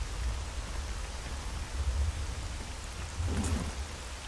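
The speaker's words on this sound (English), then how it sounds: "It's in the middle of the damn rain too." Steady, dense rainfall in the game Stalker Gamma, a continuous even hiss with low rumbling swells near two and three and a half seconds, heard alone without talk.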